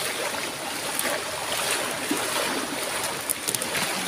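Rushing floodwater in a deep, fast current roars steadily and close, a dense broadband wash with a few small splashes near the end and no voices.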